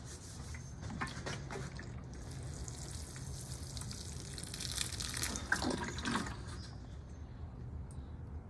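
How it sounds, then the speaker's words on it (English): Water trickles and splashes onto sand and moss around a bald cypress penjing, a soft continuous pour that swells briefly near the end, close and fairly quiet with no talking. "Let me get a little water on there."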